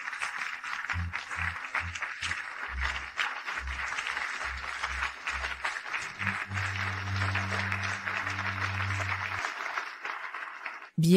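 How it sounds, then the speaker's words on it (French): Audience applause at a stage show, a broad steady clatter of many hands lasting around ten seconds beneath rhythmic low musical pulses and sustained bass notes. "applaudissons cette mère exceptionnelle"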